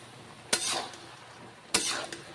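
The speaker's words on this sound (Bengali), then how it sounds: "মাশরুমগুলো ভেজে নিচ্ছি এখন এইভাবে।" Mushrooms frying in hot white oil, with two loud sizzling bursts as pieces hit or are stirred in the pan, each fading into a softer crackle.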